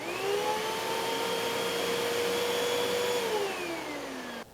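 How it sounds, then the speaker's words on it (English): A vacuum cleaner powered by an AFERIY P280 portable power station in inrush mode runs with a loud, steady motor whine, then spins down near the end. "So let's see if it can power up the vacuum."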